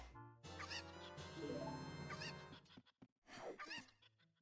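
Chickens in Zelda: Ocarina of Time, playing as child Link, let out strident, harmonic squawks in a few close, loud bursts separated by short pauses.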